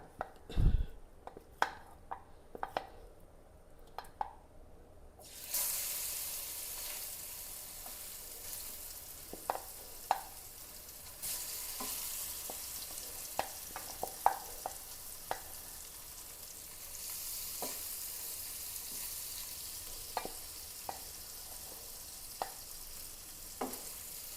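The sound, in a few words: marinated food frying in oil, sizzling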